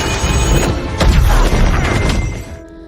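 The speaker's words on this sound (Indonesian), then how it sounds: "kepada Tom, lalu mengaktifkan semua jimat di rumah hingga terjadilah ledakan yang sangat besar" A huge, loud explosion with a sharp blast and crashing debris, rumbling heavily before fading out at the end.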